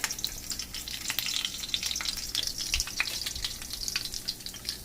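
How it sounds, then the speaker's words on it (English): Lemongrass sizzles in hot oil, a loud steady crackle and hiss with bursts of spattering while it is stirred. "You want to throw in the lemongrass. Alright, it should sizzle."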